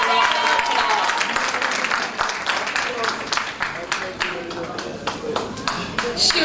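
An audience at a primary schools' public speaking competition applauds a student winner, a broad spread of individual claps forming steady applause, with some voices talking faintly underneath.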